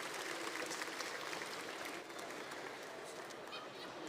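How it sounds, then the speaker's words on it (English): Audience applause after a talk, continuous even clapping from a crowd heard faintly and at some distance, with no clear voices. "let's give Andrew a big round of applause"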